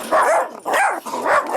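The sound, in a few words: yapping dogs barking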